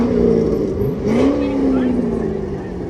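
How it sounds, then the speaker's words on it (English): A Corvette engine revs loudly at a Memorial Day parade in Ludlow, Massachusetts, its pitch sweeping upward and then holding as a sustained roar, with crowd voices around it. "That's a Corvette."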